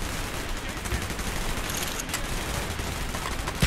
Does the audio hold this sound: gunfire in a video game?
yes